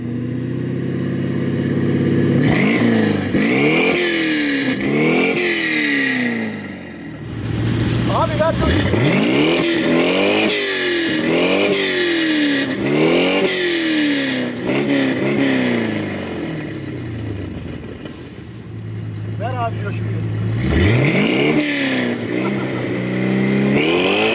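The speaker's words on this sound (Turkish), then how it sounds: "Bir de egzozu dinleyelim." A 5.7-litre V8 in an Anadol, 330 horsepower, revs hard through its exhaust in repeated rising and falling sweeps, loud and close, with brief dips between blips.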